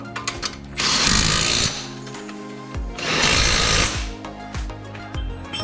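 A power tool cranks down a bolt while a Subaru axle is installed, with two sustained loud bursts of rapid hammering separated by a brief pause and spinning whir, close and harsh.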